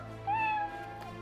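A cat lets out a single short, fairly faint meow, heard alone against a quiet indoor background.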